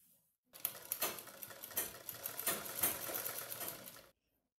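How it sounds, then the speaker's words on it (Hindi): A sewing machine stitches a square glass-style blouse neck, a close rapid mechanical whir with rhythmic clatter that starts abruptly after a short silence and stops just as sharply. "अब हम यहाँ पर लब की सिलाई चला देंगे"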